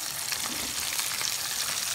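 Tomatoes added to a pan of vegetables for a vegetarian biryani sizzle and fry steadily, a continuous close hiss with faint stirring and no talk.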